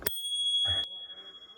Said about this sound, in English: Actually came with a little bell. It's a really nice little bell.